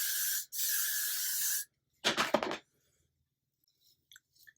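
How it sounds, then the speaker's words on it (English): A long hissing aerosol spray burst, a brief pause, then a second short spray, followed by quiet rustling and faint clicks. "I'm going to grab my hairspray and spray all around my hair"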